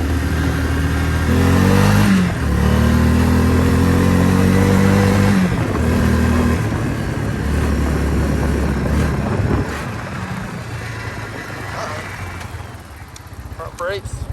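A Suzuki Quad Runner 500 ATV engine runs and drives close by, rising and falling through several rev changes with wind buffeting the microphone, then settling into a lower, steadier note.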